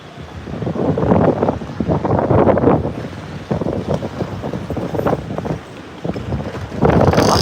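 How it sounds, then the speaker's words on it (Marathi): Strong storm wind in Virar roars and buffets the microphone in loud, surging gusts, easing briefly between blasts before picking up again. "एवढा जोरदार वारा सुटलेला आहे"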